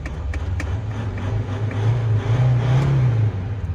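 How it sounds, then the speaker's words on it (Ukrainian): A Volkswagen Transporter TDI diesel engine runs close by, a steady low drone that rises slightly in pitch and loudness as the revs climb briefly, with no talk over it. "Двигунчик працює в автомобілі просто чудово"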